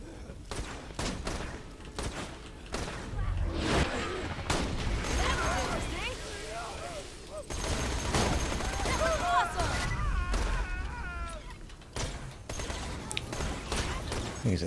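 Shotgun fire from outlaw marauders in Borderlands 2, a string of sharp blasts and thumps over busy battle noise, with a voice talking over parts of it.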